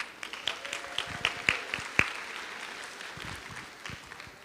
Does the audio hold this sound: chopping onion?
no